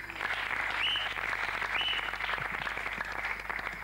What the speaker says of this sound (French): Applaudissons les frères.